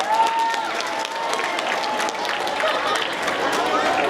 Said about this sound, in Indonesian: Tepuk tangan dulu untuk siapa tadi?